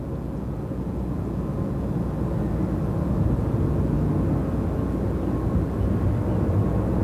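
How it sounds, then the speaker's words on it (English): Airbus A350 airliner at London Gatwick Airport, a steady low jet engine roar that holds loud and even throughout, with no voices. "Right, A350 time."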